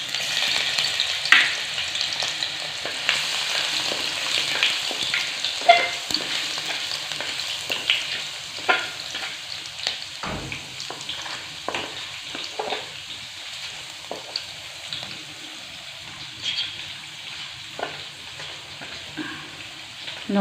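Fenugreek seeds and crushed garlic frying in hot oil in a pan, a continuous close sizzle with scattered crackles and pops throughout.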